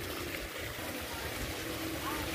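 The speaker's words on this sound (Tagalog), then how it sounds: "Yan mga kapsat, nagpapatubig na tayo. Ayan yung tubig oh." Irrigation water from the delta flows steadily into a field, a constant rushing wash that stays even and fairly quiet from start to finish.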